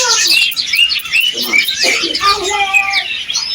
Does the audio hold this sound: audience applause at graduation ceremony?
no